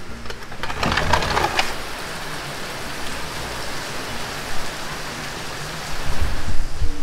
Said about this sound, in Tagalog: Ayun, ganun kalakas ang ulan niya.